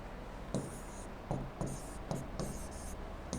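Marker or chalk strokes squeak and scratch across a board while a calculation is written, five or six short separate strokes with brief gaps, faint and close in a quiet room, with no talking.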